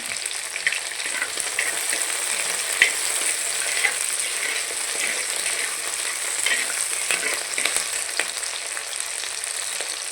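Onion and garlic sauté in a pan with a continuous close crackling sizzle, overlaid with frequent small scraping and stirring ticks throughout, with no voices.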